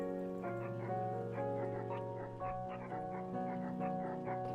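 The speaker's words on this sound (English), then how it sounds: "You bark instead." A dog character barking in the fishing game Webfishing, several short yipping barks scattered over a bright, steady background music bed, fairly quiet overall.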